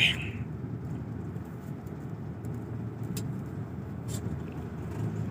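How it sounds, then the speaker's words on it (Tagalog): Cars crawl through congested traffic in Tagaytay near the Mendez flyover construction, a steady low engine and tire rumble at moderate distance with no talk over it. "Traffic, Tagaytay."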